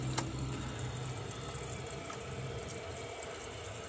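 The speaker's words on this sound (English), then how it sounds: "when the tank is done filling" A 2009 Kohler Wellworth toilet tank refills with water, a steady close hiss and rush of flow that holds evenly throughout with no voices.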